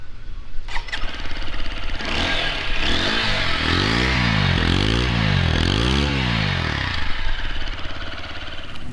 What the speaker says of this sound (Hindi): So let's now go towards the exhaust note of the motorcycle now.